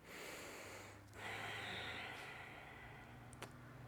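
Slow, deep breaths taken while holding a yoga pose, faint and close, with a soft drawn-out exhale and a sharper nasal puff near the end.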